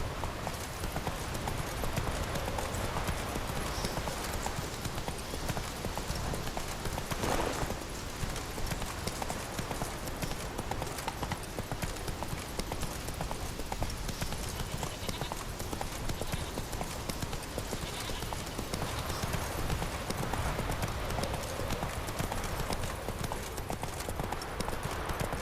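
Roach, Geralt's horse in The Witcher 3, gallops in a steady rapid clip-clop of hooves that carries on for the whole stretch, with game ambience behind it and only faint voice traces.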